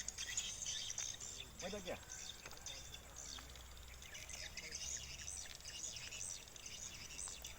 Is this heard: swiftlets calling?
yes